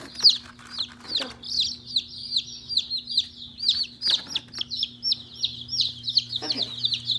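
Baby chicks in a brooder cheep constantly in rapid, high overlapping peeps, close and busy, with faint handling noises beneath.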